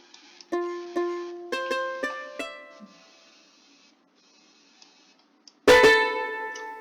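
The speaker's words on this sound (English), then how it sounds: "There it is, people. That's the distortion." Synth notes plucked one after another in a short sequence in a music tracker, then a loud, harsh, gritty distorted chord bursts out near the end.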